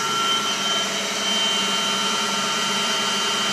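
A 21 by 80 inch Harrison CNC lathe runs at 1,100 RPM with a steady, fairly quiet mechanical whir and faint high tonal whine, holding even throughout with no speech.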